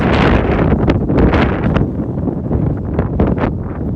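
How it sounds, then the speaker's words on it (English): Strong outdoor wind roars and buffets loudly and continuously, with gusting surges rising and falling across the whole stretch. "Oh, so windy."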